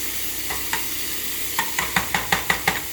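Thick bacon fries in a pan under a steady, hissing sizzle, and a food turner scrapes and taps against the pan in a quick run of about a dozen sharp clicks, heard up close.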